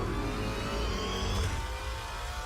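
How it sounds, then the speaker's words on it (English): Dodge Challenger V8 muscle car engine roaring loudly and steadily, a deep, continuous rumble with a revving surge near the middle, close and alone with no talk. "The roar of an American V8 engine."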